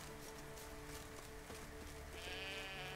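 Sheep bleating in The Witcher 3 Wild Hunt, a few wavering bleats at moderate distance over a soft game ambience, with a higher, thinner cry near the end.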